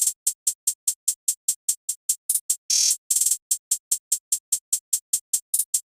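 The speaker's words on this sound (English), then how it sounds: "I laid down this hi-hat pattern with like some super basic like hi-hat rolls" Crisp, rapid hi-hat ticks in a steady FL Studio pattern, broken by quick stuttering rolls and a short burst of noisy cymbal wash.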